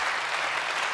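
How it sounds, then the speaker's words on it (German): Audience applause at a comedy show at a humor festival in Arosa, a dense, steady clapping from a crowd, loud and close, filling the whole moment. "Da kommen sogar Applaus über"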